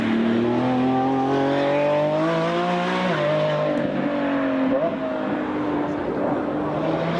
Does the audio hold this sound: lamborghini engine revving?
yes